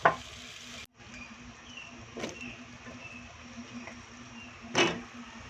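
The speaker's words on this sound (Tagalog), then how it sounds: "dahil kumukulo na yung ating gata" Coconut milk boils in a pot for a squash and shrimp stew, giving a soft, steady bubbling sizzle with occasional louder stirring clinks and scrapes, heard close and alone without talk.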